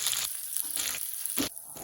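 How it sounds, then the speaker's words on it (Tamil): Tomatoes sauté in a pan for a kara meen fish curry, giving a close, hissing sizzle broken by short bursts of scraping and stirring. "தக்காளி நல்லா வதங்கட்டும்."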